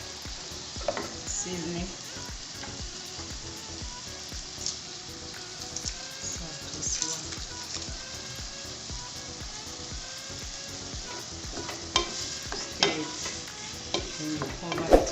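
Tomato mixture being stirred and fried in a pan, with steady sizzling under repeated scraping and clinking of a spoon against the pan; a voice briefly speaks partway through.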